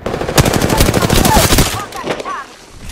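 Rapid bursts of automatic gunfire in a shooter video game, loud and close, a dense rattling string of shots that tapers into a few scattered pops and fades.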